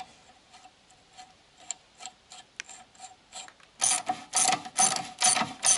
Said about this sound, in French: Je repasse l'écrou cannelé sur tout le filetage de l'axe